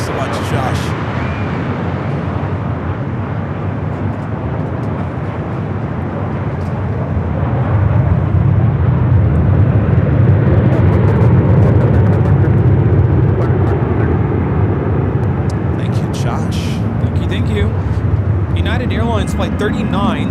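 An Emirates airliner on approach into Los Angeles International Airport, a steady low jet roar that swells and grows louder partway through, with a person talking over it near the end.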